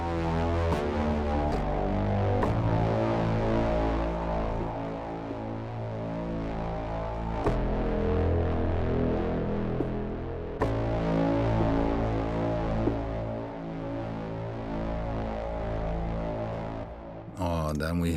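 A gritty, buzzing distorted tone from the Rob Papen BLUE-3 synthesizer with rich harmonics holds and shifts pitch in sustained notes, with a few clicks between phrases.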